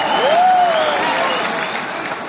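Audience applause at a live Kumar Vishwas poetry and shayari performance in Surat, a steady dense wash of clapping throughout, with a faint tonal voice-like glide near the start.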